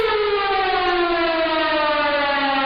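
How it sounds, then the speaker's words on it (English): A wailing siren sound effect, like a civil defense siren, sounds loud and steady on its own, its tone sliding slowly downward across the short clip. "That is our perfect week siren."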